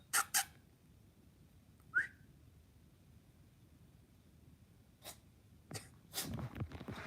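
A cat sneezes indoors, several short sharp bursts spread across a few seconds, close and fairly loud against a quiet room, with a wet snort near the end.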